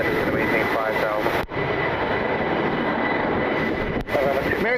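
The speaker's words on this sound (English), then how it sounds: "American Eagle taking to runway flight 4398, I think was the flight number E175 heading to JFK." An American Eagle Embraer E175 jet on the runway gives a loud, sustained engine roar at a steady level, with brief dropouts and a faint voice murmuring underneath.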